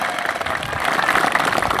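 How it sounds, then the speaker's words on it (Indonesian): A crowd at a Pemuda Pancasila rally in Banyumas breaks into loud, dense applause, a continuous wash of clapping that holds steady and swells slightly, with no talking over it. "Tepuk tangan buat pemuda Pancasila."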